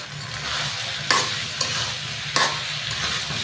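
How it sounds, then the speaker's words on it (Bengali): Potatoes fry in spice paste in a pan, giving a dense, steady sizzle with a few distinct spatula scrapes and knocks as they are stirred; no voices. "আলুটা দিয়ে আমি মশলার সাথে একটু আলুটা ভালো করে কষিয়ে নেব"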